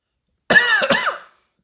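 A single harsh cough breaks into a rough throat clear, close and loud, then silence.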